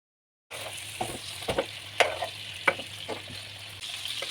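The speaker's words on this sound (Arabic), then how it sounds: "نحيه ونحمره في المقله اللي كنت حطيت لها الزبده" Chicken pieces fry in butter in a pan, a steady close sizzle broken by a few sharp clinks and scrapes as the meat is stirred and turned, with no voices.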